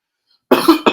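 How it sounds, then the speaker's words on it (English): A person with a cold gives two quick, sharp coughs up close, loud and dry, after a moment of silence. "I think we both dealing with some type of cold or cough or something."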